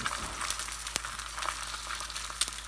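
Eggs fry on carbon steel pans over heat, cooked on spots with excess seasoning, giving a steady, soft, crackling sizzle with small pops throughout.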